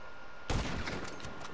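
A single sharp gunshot from GTA 5 cracks out, loud and close, with a brief echoing tail and a few faint follow-up pops behind it.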